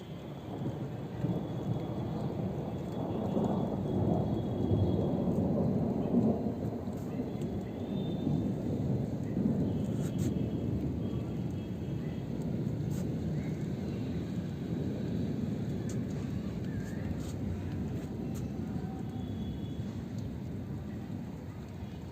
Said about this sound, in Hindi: बड़ी बड़ी बूंदें पड़ने लगी हैं।